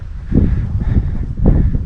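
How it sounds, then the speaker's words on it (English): Strong wind buffets the microphone with low rumbling gusts, with rustling in the background and no voices. "super windy today, so I won't be getting any welding done"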